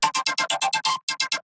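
A distorted one-sample synth sound processed through a filter table effect, chopped into about ten short rhythmic bursts with a brief gap before the last three, bright and buzzy but fairly quiet.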